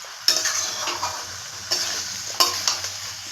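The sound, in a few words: stir-frying green jackfruit curry with spices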